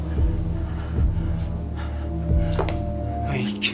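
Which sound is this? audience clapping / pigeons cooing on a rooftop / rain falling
rain falling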